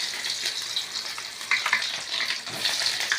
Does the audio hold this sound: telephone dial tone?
no